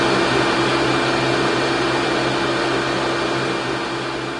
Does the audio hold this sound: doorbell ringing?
no